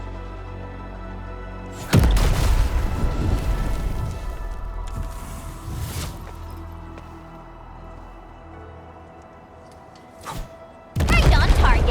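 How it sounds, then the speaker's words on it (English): In-game explosion in Arknights: Endfield: a loud, sudden blast with a rumbling tail that fades over several seconds, a small thump, then another sharp burst near the end. "I give that explosion a 10 out of 10"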